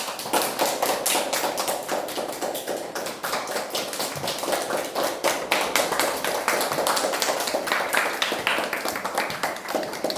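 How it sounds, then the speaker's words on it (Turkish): A class of fourth-grade schoolchildren claps together at a school Peace Day event, a dense, steady patter of many hands that carries on close and loud for about ten seconds. "Alkışlayak özümüz uşaklar"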